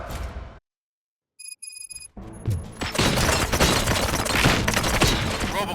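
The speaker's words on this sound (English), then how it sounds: "Gunshots? What's going on?" Gunfire in the video game RoboCop: Rogue City, with a brief quiet gap and electronic beeps giving way to dense, loud, sustained shooting.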